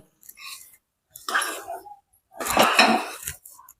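Spoon scraping and clinking in a pot while dry ginger and cardamom powder are stirred into wheat and jaggery lapshi, in three separate bursts with short silent gaps between them.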